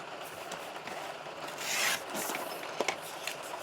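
Strip of card stock being cut to about 5 1/4 by 1 inch, heard as soft close rubbing and slicing with a few small clicks, no talk over it.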